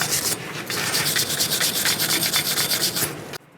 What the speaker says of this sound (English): Use either a sanding disc or a wire brush.